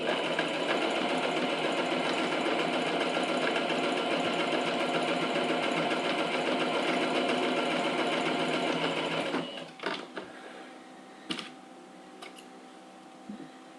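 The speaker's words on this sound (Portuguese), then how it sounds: "Vou na máquina e faço uma costura." Sewing machine stitching layered fabric and mesh for a pencil case with a mesh window, running steadily and loud for about nine seconds, then stopping, followed by a few faint clicks and handling sounds.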